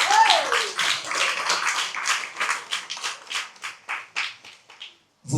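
Crowd applause at a municipal election campaign meeting in Morne-à-l'Eau, dense clapping that thins into scattered, rhythmic claps and then stops.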